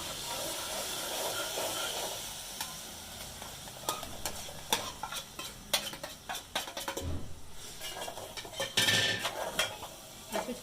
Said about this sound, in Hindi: ये देखिए हमारा मसाला भुनने लग गया है।